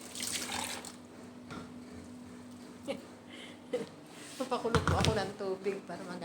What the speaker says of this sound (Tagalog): naghugas po ako ng mga plato dahil kailangan po ay mainit na tubig ang ating gamitin